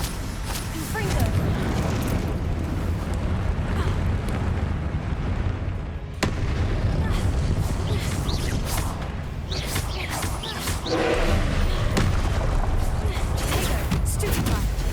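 Confringo spell explosions in a Harry Potter video game on PlayStation: loud, dense blasts and crackling impacts run almost nonstop, with one sharp crack near the middle and other spell effects mixed in.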